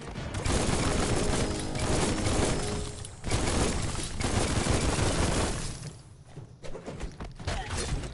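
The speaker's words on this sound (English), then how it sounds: "You can shoot a weapon right now." Heavy, sustained weapon fire and impacts in the video game Biomutant, a loud continuous barrage of shots and crashes that thins out briefly near the end.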